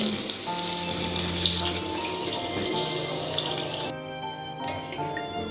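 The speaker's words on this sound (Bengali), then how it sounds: "তেল ছাড়তে শুরু করলে দিয়ে দিচ্ছি জল" Water pouring into a pan of potato curry for niramish aloo dum, a steady rushing splash with some sizzle under it that stops abruptly near the end, close and fairly loud, no talk.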